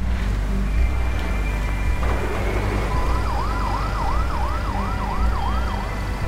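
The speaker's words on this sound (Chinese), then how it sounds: "我们的救护车先出去啊！" A wailing ambulance siren sounds in the Fire Commander video game, starting partway through and rising and falling rhythmically over a loud, steady rumbling background of fire and engine noise.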